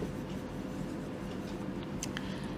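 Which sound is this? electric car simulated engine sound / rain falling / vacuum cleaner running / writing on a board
writing on a board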